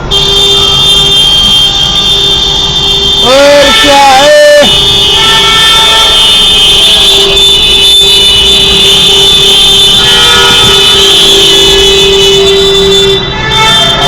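Car horns honk in busy traffic, with a burst of warbling, siren-like horn tones mid-way over a steady engine rumble and a constant high whine.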